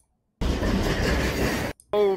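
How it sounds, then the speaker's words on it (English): An old train rumbles past in a horror film, a steady dense roar of wheels and carriage noise lasting over a second, cut off abruptly before a brief burst of another sound. "Old train."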